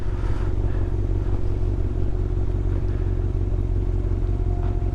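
A 1996 Yamaha YZF600 motorcycle ridden through a snowstorm, its engine a loud, constant close rumble with steady pulsing and wind noise, no speech.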